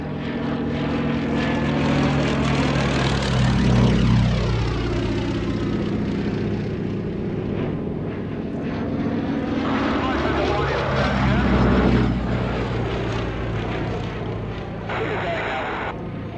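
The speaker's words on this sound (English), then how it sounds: "the aircraft on first appearance perhaps a little bit cumbersome in the sky" A Westland Lysander propeller aircraft drones loudly overhead at an air display, its engine rising and falling in pitch as it passes twice, under continuous commentary over a public address.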